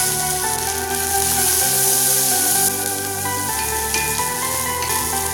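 Small shallots frying in hot oil with mustard seeds for a greens stir-fry, a steady close sizzle with crackling spatter over a faint tonal background hum.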